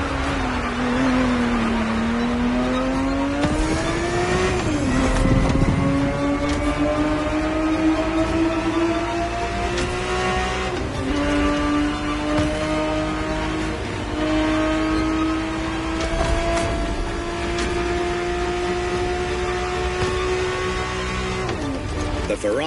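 A Ferrari 365 GTB4 engine in a racing video game, revving and climbing through the gears with rising and falling pitch, loud and close throughout, with a brief dip and shift midway.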